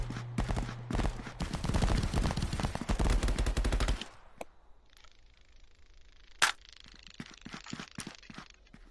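Rapid automatic assault rifle fire in the VR shooter Contractors rattles in a dense close burst for about four seconds, followed by quieter distant shots, a sharp single crack and scattered clicks.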